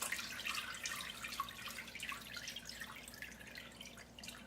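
Bone broth drains from a lifted strainer back toward a pot, a faint, continuous patter of trickling liquid and fine drips, steady and close with no talking.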